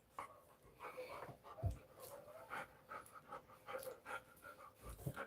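A pet dog pants in quick, breathy bursts close by, with a few low thumps and faint whimpery sounds mixed into the steady huffing, and no talking.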